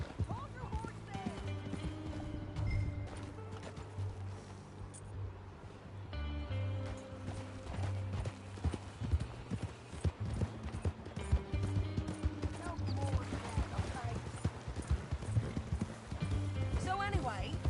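Horse hooves clip-clop steadily in Red Dead Redemption 2, a rhythmic trotting patter with an occasional whinny, set against low droning game music and ambience while characters talk over it.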